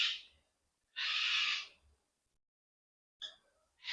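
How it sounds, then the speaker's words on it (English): A noisy pet cockatoo screeches from behind in an indoor room: three harsh, rasping calls separated by silence, the middle one longest and loudest, with no talking. "I've got a bit of a noisy cockatoo behind me"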